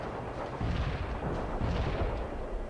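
Artillery in the World in Conflict video game pounds a target with heavy, rumbling booms that roll together into a continuous thunder of distant shelling.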